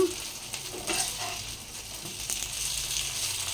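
Masala brinjal pieces fry in a pan and get flipped over, a soft, steady sizzle with scraping and clinking as the slices are turned.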